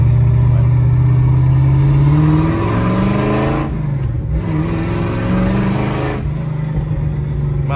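Ford Maverick engine revving up close, a loud deep rumble that climbs in pitch, settles, then rises again through repeated throttle blips with no talking.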